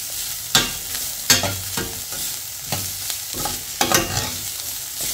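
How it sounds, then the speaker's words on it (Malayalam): Cooked green gram being stirred into a spinach stir-fry in a pan, with several distinct scraping stirs spaced through the clip over a soft, steady sizzle; close and moderately loud with no talking. "നമുക്ക് നേരത്തെ വേവിച്ച് വെച്ച ചെറുപയർ ഇട്ട് കൊടുക്കാം. ഇതെല്ലാം കൂടെ അങ്ങ് മിക്സ് ചെയ്യാം."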